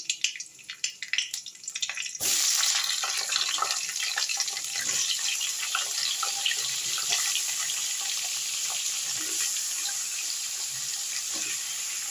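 Vegetables for a drumstick and poppy-seed curry drop into hot oil with green chilli and black cumin, bursting into a loud, steady broadband sizzle after two seconds of quiet clinks, holding strong and close to the end.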